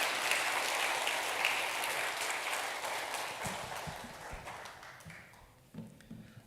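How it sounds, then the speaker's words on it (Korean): Church congregation at a Sunday service applauding to welcome a student speaker, a sustained wash of clapping from many hands that gradually thins and fades. "우리 앤드루 나올 때 우리 힘차게 격려의 박수로 환영의 박수로 맞이하겠습니다"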